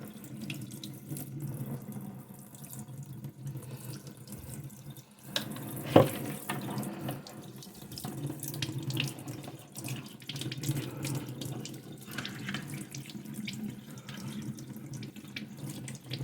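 Water runs steadily from a tap into a sink while a doll's hair is washed, a continuous close splashing stream with a brief louder splash partway through and no talking.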